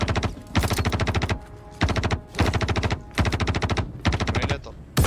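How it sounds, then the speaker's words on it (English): Automatic gunfire in the video game Star Citizen, several rapid bursts of loud, evenly spaced shots separated by brief pauses, shooting through a wall, with no talk. "Shooting through the wall."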